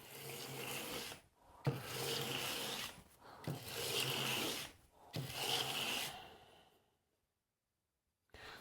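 A plane blade is pushed in long swipes across coarse grit abrasive to raise a burr, giving several rasping strokes separated by short pauses, close and fairly loud, then falling silent.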